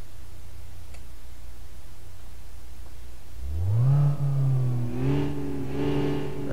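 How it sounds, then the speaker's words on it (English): Simulated 2008 Range Rover engine in a city driving game, a low idle that rises into a revving climb around midway and holds with slight wavering pitch, fairly loud and steady. "There's a revving."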